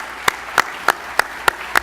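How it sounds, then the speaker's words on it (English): A handful of sharp, evenly spaced claps ring out at a business competition event in Carroll County, six crisp hand strikes in a steady rhythm, fairly close and without talk. "Let's give Mike a round of applause."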